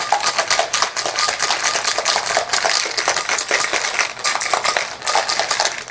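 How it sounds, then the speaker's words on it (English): A whiskey sour is shaken hard in a lidded cocktail shaker, producing rapid, continuous rattling and clattering of ice throughout, loud and close with no talking. "I'm going to put the lid on. And we are going to shake this up."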